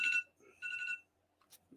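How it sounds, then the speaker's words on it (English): An alarm going off in bursts, short electronic beeping chirps separated by silences, fairly close and clear with no talk. "there goes my alarm"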